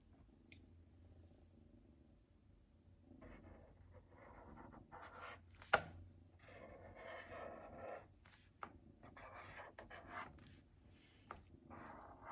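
A pen or marker scratches and strokes on a journal page as someone writes or colors by hand. The strokes come in faint, intermittent bursts over a quiet background, with one sharp tap partway through.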